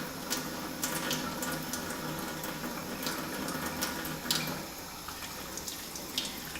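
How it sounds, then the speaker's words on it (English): Makeup brushes are dunked and swirled in soapy water, making a continuous soft sloshing, watery churn with small splashes, close and fairly quiet, and no voices. "Very quickly dunk the brushes in the soap and then just swirl them around like this."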